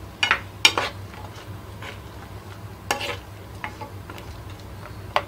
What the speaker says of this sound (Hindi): अब ये सारे को एक साथ मिक्स करेंगे।